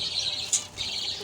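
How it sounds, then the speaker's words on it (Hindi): Baby parrots give thin, high chirps over a soft steady background, with one brief sharper peep in the middle. "इसलिए तमाम इसमें छोटे तोते हैं"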